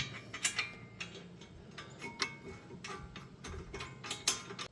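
Bolts being threaded into a caliper bracket on a Toyota Camry during front brake pad and rotor work, giving light metallic clicks and ratcheting ticks close by, irregular and fairly quiet.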